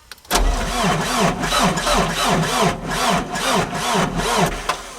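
An ASV PT100 diesel skid steer engine cranks over repeatedly in a cold start with a labored, weak rhythmic churning from the starter, struggling without catching, loud and close.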